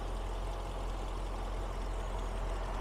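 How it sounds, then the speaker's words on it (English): The V8 engine of a 2006 Mercedes C55 AMG idles quietly and steadily, a smooth low hum with no ticks or changes in pitch. "Very quiet at idle, happily idling, no abnormal ticks or anything to be heard."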